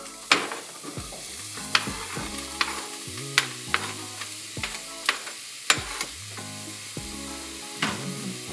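Onions dropped into heated olive oil in a pan for lasagna, a sizzle broken by repeated sharp clacks and scrapes of stirring at roughly half-second to one-second intervals, close and without voices.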